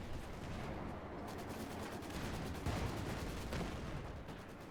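Quiet, distant gunfire crackles in a Company of Heroes 2 battle between OKW and Soviet forces, with rapid rifle and machine-gun bursts over a dense battlefield rumble, faint and continuous, with no voices.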